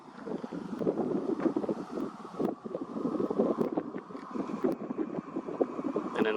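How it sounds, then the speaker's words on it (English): Strong wind gusts buffet the microphone outdoors among red rock formations in Colorado, a continuous rumbling roar that swells and dips throughout without any talking. "Sorry, it's windy."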